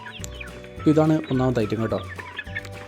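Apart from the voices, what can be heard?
native chicken chicks clucking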